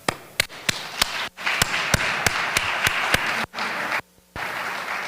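An awards event audience clapping in a room, though the sound comes across mostly as a few sharp, spaced claps over a dense patter of many hands, with brief drops to near silence.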